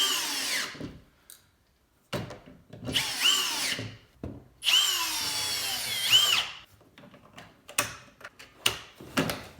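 Power drill driving screws back in while reinstalling a rear speaker in a Honda Pilot, with several close whirring bursts of rising and falling pitch separated by short pauses.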